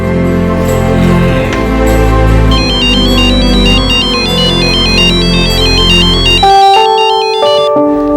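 A loud electronic phone ringtone plays a repeating melodic pattern, then shifts to a sustained tone near the end, with no voices.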